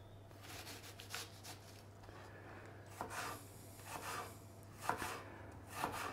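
Knife cutting through half an onion on a board while cooking fried potatoes and braised cabbage, a quiet series of soft, irregular chopping strokes with a steady low hum underneath.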